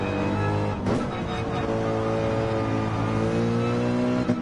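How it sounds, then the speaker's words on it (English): Racing car engine in Gran Turismo 7 held at the rev limiter in second gear, a steady loud buzzing drone with a brief stutter near the start, continuous and close with no talk. "The rev limiter there, of second gear"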